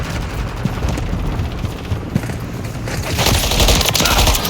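Video game gunfire from Modern Warfare 3, hardcore mode on the Rust map: dense, continuous automatic shooting and crackling blasts forming a loud, steady wash that swells toward the end.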